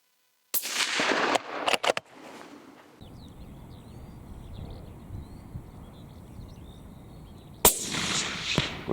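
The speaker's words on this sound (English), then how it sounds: "He's just shot a nice fallow doe. That's a strike shot, and he's using copper." A rifle firing a copper bullet at a fallow deer gives two sharp, loud cracks early on. Quiet outdoor ambience with faint birds follows, then another loud burst of noise near the end.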